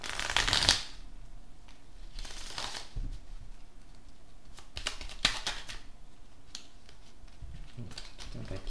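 Tarot cards handled and shuffled by hand, with a crisp riffling burst at the start followed by scattered light flicks and taps as cards slip and fall, fairly close and soft.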